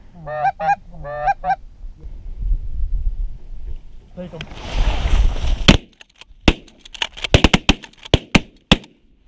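Geese honk early on while goose hunting, then a whooshing rush of wind gives way to a series of sharp, loud shotgun blasts cracking in quick succession.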